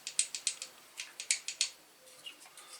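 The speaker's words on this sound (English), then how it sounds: "And screw it in" A small screw is driven into a Tamiya M-05Ra model car chassis, giving a run of quick, faint close clicking ticks in short bursts as the screwdriver turns, with no talk.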